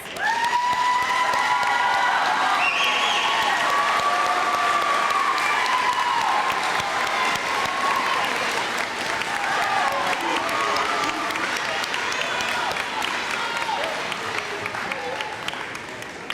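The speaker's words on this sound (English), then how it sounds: "Let's give these students a round of applause." An audience at a fifth-grade elementary school graduation claps and cheers for the students, loud sustained applause with shouts and children's voices over it, lasting throughout.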